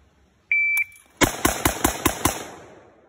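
A sharp electronic shot-timer beep sounds, then a rapid string of six loud M14 rifle shots rings out in quick, even succession, each echoing briefly.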